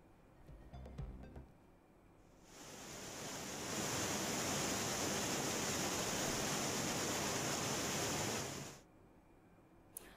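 The flooded Mohan River near Gadda village in Dediapada, Narmada district, Gujarat, runs bank to bank after heavy rain upstream. It makes a dense, steady rushing roar that swells in, holds for several seconds, then cuts off.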